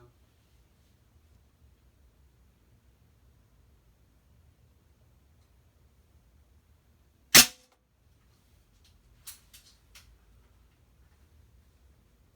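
A single sharp air rifle shot from a Notos or P-rod firing unsorted pellets indoors, one crisp crack followed by a few faint clicks of handling in a quiet room.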